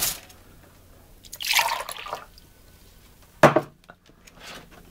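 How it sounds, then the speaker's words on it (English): Water is poured out of a bottle during a homemade electronics experiment, two short gushing splashes a couple of seconds apart, with faint drips and handling noise in between. "I can even empty this water out in here"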